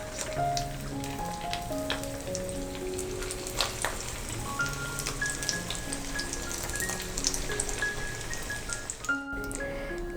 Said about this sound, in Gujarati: અને હવે આ રીતે આપણે બીજી બધી કટલેટને પણ ફ્રાય કરી લઈશું.